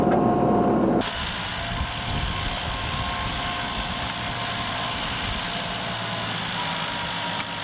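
Iseki TLE3410 hydrostatic tractor in a low gear pulling a Wessex rotivator, a steady engine drone with churning low rumble, close and continuous after a brief louder burst at the start, with no talk.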